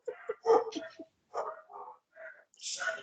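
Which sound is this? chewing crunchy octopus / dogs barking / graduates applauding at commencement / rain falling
dogs barking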